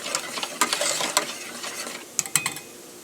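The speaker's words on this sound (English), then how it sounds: "Just going to whisk that in there" Whisk scraping and clinking against a pot as spices are mixed into a Cajun cheese sauce for mac and cheese, a busy run of close, uneven metallic stirring strokes with sharper clicks near the end.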